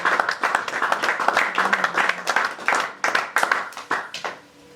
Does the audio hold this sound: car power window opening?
no